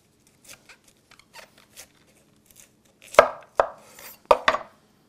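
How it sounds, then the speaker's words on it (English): A knife cuts thick slices of cauliflower on a board with a few soft crunches followed by several sharper, louder chopping strokes close by, with no speech. "But try to cut thick slices, see? Like that, thick slices."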